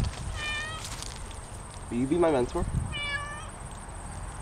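A cat meows three times in short, high, wavering cries, the middle one longer and lower, while someone talks in between.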